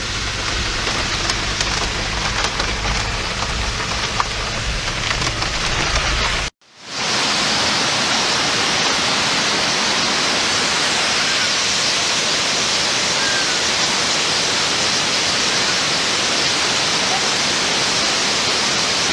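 Heavy rain pours down in the El Yunque rainforest of Puerto Rico, a loud, steady hiss that breaks off for a moment partway through and then resumes just as strongly.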